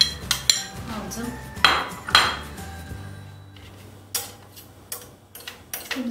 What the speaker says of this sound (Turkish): Temizliyorum kaşığımı.